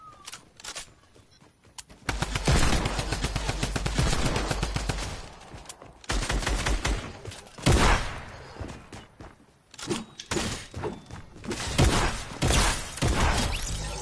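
Sustained, loud automatic gunfire in a PS4 shooter, with dense rapid bursts broken by brief pauses and continuing through most of the stretch without clear talking.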